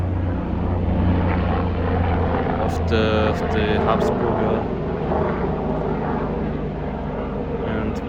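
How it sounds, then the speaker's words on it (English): Helicopters circle over the Habsburg castle park in Innsbruck, producing a steady, loud rotor and engine drone that fills the whole clip while someone talks over it. "currently surrounded by helicopters"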